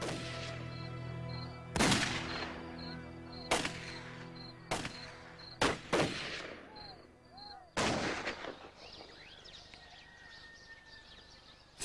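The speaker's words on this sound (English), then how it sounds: "the Ottoman soldiers were scared, and they started firing recklessly in the air" Soldiers firing rifles into the air, a series of sharp loud shots spaced irregularly over a tonal background with faint bird-like sounds, each crack ringing and echoing briefly.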